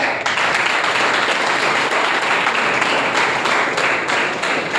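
A loud, dense round of applause from an audience at a speaking event for a guest speaker, steady and unbroken throughout, with no talk over it.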